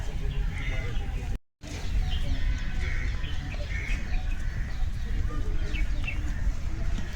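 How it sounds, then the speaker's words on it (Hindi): Small birds chirp and twitter in scattered bursts at Rajghat, Delhi, over a constant murmur of outdoor background noise, with one brief dropout partway through. "थोड़े से पंछी वगैरह चहक रहे हैं, उनकी आवाज़ आ रही है"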